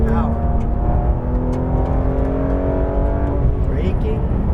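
A Porsche GT3 RS 991.2 engine pulls hard on a racetrack, a loud sustained in-car roar with rising engine tones, while someone talks over it throughout.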